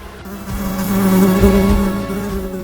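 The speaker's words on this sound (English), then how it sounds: "a swarm of bees and honey were in the carcass of the lion" A buzzing swarm of bees rendered as an animated sound effect, a steady droning hum that swells to a peak midway and stays continuous and close throughout.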